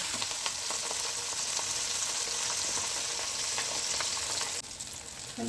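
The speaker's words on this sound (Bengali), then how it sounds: "গরম তেলে মাছগুলো উল্টে পাল্টে ভালোভাবে ভেজে নিতে হবে" Steady, loud sizzling of fish frying in hot oil, a dense continuous crackle that runs throughout with a slight shift near the end.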